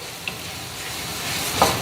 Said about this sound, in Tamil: இப்போ இந்த தக்காளியும் குடமிளகாயும் சேர்ந்து நல்லா பாருங்கள் வெந்து போயிடும்.